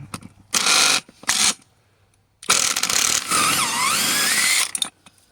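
Bursts of a ratchet or mechanical tool tightening a bolt during an engine swap on a 2002 VW Passat 1.8T, with loud clicking runs separated by short silences and a longer whirring stretch near the end.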